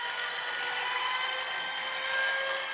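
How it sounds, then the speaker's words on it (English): An inertia starter for an old airplane engine spins with a smooth, steady mechanical whine and faint rising tonal hum, heard alone and fairly quiet. "one of the principal elements comes from a device called the inertia starter, used to start the engine on an old airplane"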